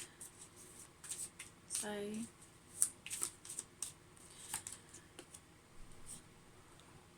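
Tarot cards being shuffled by hand, a quiet rustling and flicking of a bouncy deck with a few sharp card snaps, close and faint, with a voice speaking briefly over it.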